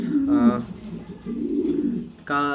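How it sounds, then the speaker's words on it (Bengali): Colourful pigeons in a loft coo up close in throaty, resonant bursts, one near the start and another at the end, with a softer murmuring stretch between them. "কালারফুল কবুতর এগুলা অনেক কষ্ট করে কালেকশন করতে হয়"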